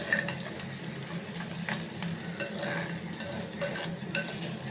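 Steady sizzling of onions frying in a pan until brown for fish curry, with occasional stirring scrapes and clinks, close and continuous with no talking.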